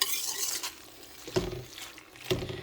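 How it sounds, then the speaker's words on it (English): Spicy veg macaroni masala stirred in a pan, heard as quiet scraping with a few distinct clinks of a spoon against the pan over a soft sizzle. "So just give it a nice mix and let this sit for 2 minutes."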